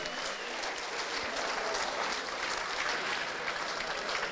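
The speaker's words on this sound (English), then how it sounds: "a big round of applause for both of these men after 5 hard-fought, grueling rounds of action" Dense, sustained crowd applause fills a boxing-style fight venue in Birmingham after a five-round Muay Thai bout, broad and steady throughout with no clear individual claps standing out.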